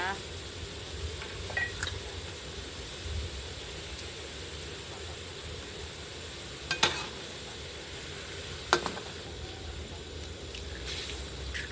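Egg stir-fried with minced pork and meatballs in a pan for fried rice, a steady soft sizzle with occasional sharp clicks of a spatula against the pan.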